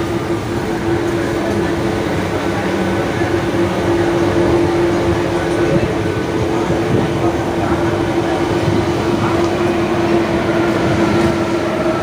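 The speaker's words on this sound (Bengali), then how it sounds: "বললাম না ট্রেনটা ওভারটেক করে চলে যাবে, দেখুন চলে যাচ্ছে হাওড়া জয়নগর দেওঘর ভায়া।" Heard from aboard a train near Howrah, the Howrah–Jaynagar–Deoghar train overtakes with a loud, steady rumble and a constant hum, filling the scene without pause.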